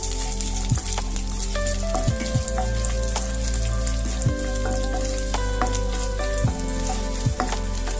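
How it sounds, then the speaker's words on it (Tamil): Raisins and finely chopped coconut fry in ghee for aval payasam, giving a steady close crackling sizzle with occasional soft clicks of stirring and no talk. "இது எல்லாத்தையுமே நல்லா வறுத்து எடுத்துக்குவோம்."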